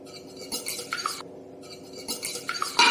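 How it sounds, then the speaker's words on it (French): Eggs beaten in a mixing bowl for muffins, a whisk or fork clinking quickly and steadily against the bowl in two bursts with a short pause between them. "nous allons battre les œufs"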